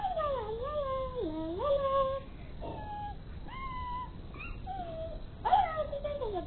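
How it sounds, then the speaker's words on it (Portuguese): A very large domestic cat gives a series of drawn-out, wavering meows and yowls, some rising and others falling, close and clear against a low background hiss. "esse gato aqui, que ele é muito grande, como você pode ver"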